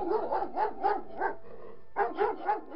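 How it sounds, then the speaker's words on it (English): A large dog next door barks repeatedly at night in a steady rhythm, two short runs of barks separated by a brief pause, sounding somewhat distant and muffled. "my neighbor's dog started barking."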